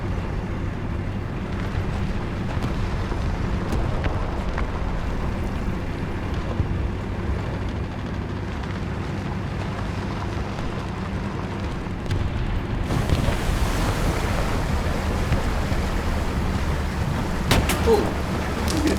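A British Valentine Mk.IX tier-2 medium tank in War Thunder fords a river, its engine a steady, loud low rumble that turns into a brighter, rushing water-like wash late on, with a few sharp bursts near the end and no talk.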